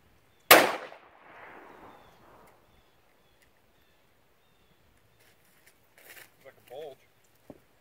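A single loud rifle shot cracks against a panel of bulletproof drywall, a sharp close blast followed by a brief fading ring, then quiet with faint shuffling and short vocal sounds later.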